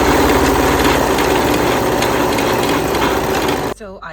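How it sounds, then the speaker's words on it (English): A serger runs steadily overlocking the side, waist and hip seams of a pencil dress, a fast even mechanical whir that stops abruptly before a voice speaks. "I'm going to serge the sides, the waist, the hips on both sides"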